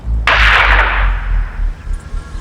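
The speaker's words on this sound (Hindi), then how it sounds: "वहां गन शॉट फायर हुआ" A single sharp gunshot sound effect from a TV crime drama cracks out suddenly and loudly, then fades in a long echoing decay with a low rumble underneath.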